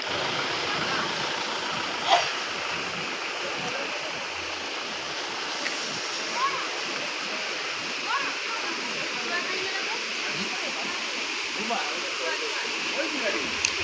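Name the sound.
waterfall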